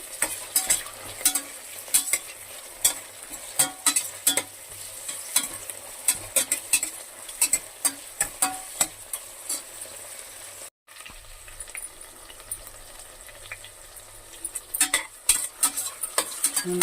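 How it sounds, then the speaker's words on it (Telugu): Chopped tomatoes frying in a pan for spinach rice, with a low steady sizzle under frequent sharp clinks and scrapes of a spoon stirring against the metal, and a brief dropout partway through. "టమాటాస్ కూడా ఫ్రై అయిపోయినాయి."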